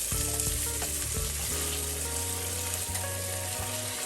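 Fish frying in oil for a low country dish while a spoon stirs it, a constant close sizzle with faint tonal hum beneath and occasional stirring clicks, no speech.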